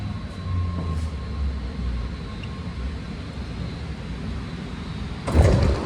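A six-car BART Red Line train, SF/Richmond via SFO bound, pulls into Colma Station: a steady low rumble of wheels and car noise throughout, with a louder burst of braking or door noise near the end.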